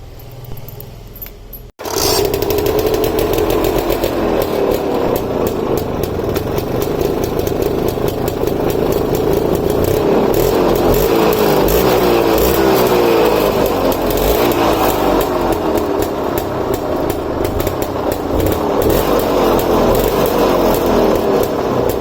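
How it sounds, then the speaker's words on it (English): A Lambretta LI scooter's small two-stroke engine is kicked into life after a brief quiet moment, then runs steadily and loudly close by for about twenty seconds, its rough idle holding at a constant level with no talking. "I'm also gonna turn it on and show you how this particular scooter sounds"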